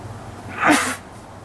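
A single short sneeze, fairly close, rising quickly out of quiet room tone and fading within a moment.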